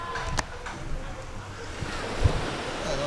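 Sea waves washing onto a beach, a steady broadband surf wash with gusty wind noise on the microphone and a few soft thumps, moderately close and continuous.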